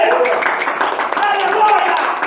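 A church congregation clapping, dense and close, with a voice speaking over the clapping throughout.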